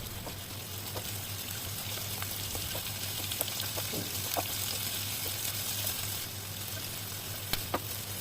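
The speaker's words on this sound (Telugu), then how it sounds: "సో ఇప్పుడు మనం దీంట్లోకి కట్ చేసుకున్న ఆనియన్స్ అయితే వేసేసి బ్రౌన్ కలర్ వచ్చే వరకు ఫ్రై చేసుకోవాలన్నమాట" Chopped onions frying in a pan while a fish pulusu is cooked, giving a steady, moderate sizzle that runs throughout with a few small crackles and pops on top.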